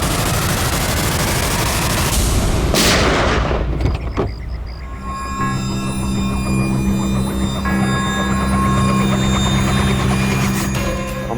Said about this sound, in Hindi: लो रिवॉल्वर और चलाओ गोली